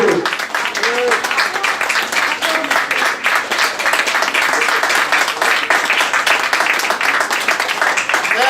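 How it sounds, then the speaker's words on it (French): An audience at an award ceremony in a Paris restaurant applauds with dense, continuous clapping that holds steady for several seconds while voices carry on underneath. "Je veux un tonnerre d'applaudissements pour M. Faux."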